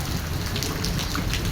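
Heavy early-morning monsoon rain in Lahore, a dense, constant roar of downpour pattering on surfaces, loud and close, unbroken throughout with no voices.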